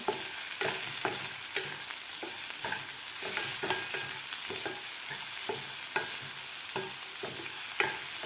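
Sprouted moth bean (matki) curry with salt and turmeric is stirred in a pan, a steady rhythmic series of close spoon scrapes and knocks over a constant soft sizzle, with no talking.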